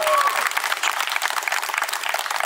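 Audience applause fills a live podcast session in Assam, a steady dense clapping from a crowd that carries on without a break for the whole stretch.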